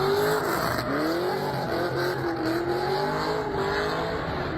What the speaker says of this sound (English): Cars performed drifting stunts throughout the city